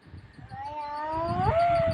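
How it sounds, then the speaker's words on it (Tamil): A cat meows with a long rising-and-falling wail, close and fairly loud, over faint background rustle. "பூனை எப்படி கத்தும் மியாவ்"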